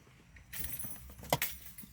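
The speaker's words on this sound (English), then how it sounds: "I'm going to take my old keys" A set of car keys jangles close by, a short burst of bright metallic clinks with a couple of sharper rattles near the middle, set against a quiet background.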